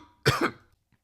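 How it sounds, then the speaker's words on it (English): A single short cough from a man in the middle of commentary, close and sharp, with near silence before and after. "sorry, I had to cough there for a moment."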